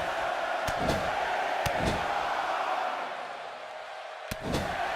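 Crowd noise roars steadily at a professional wrestling match while punches land in the corner, with sharp slam-like thuds cutting through the sustained cheering.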